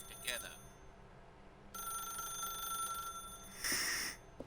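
Telephone ringing in the video game The Stanley Parable, a shrill electronic bell in a couple of short bursts, with a voice talking between the rings.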